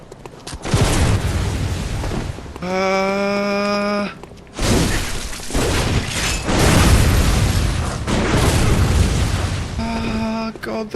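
Enemy gunfire spam in Bloodborne: repeated loud bursts and booms crowd together, broken by ringing metallic tones, with brief gaps between the volleys.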